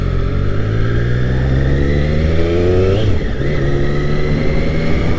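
A 2020 Triumph Street Triple 765RS riding off after a service, its engine loud and close, pitch rising through the revs, a brief dip around a gear change, then pulling steadily again.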